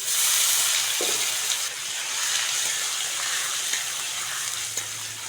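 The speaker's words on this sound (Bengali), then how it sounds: "ওই তেলের মধ্যে কালো জিরে ফোড়ন দিয়ে দেবো কালো জিরে সঙ্গে থেতো করা রসুনটাও দিয়ে দেবো" Nigella seeds and crushed garlic fry in hot oil, a steady, fairly loud sizzling hiss with a couple of faint ticks and pops and no voices.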